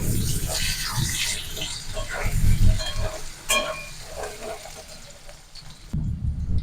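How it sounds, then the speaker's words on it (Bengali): Boiled potato pieces sizzle as they fry in hot oil for a vegetarian chhana dalna, a steady crackling hiss with spoon stirring scrapes and occasional louder spits. "এবার আমি ওই তেলের মধ্যে সেদ্ধ করে রাখা আলুটা দিয়ে দেবো আলুটাকে একটু ভেজে নেব"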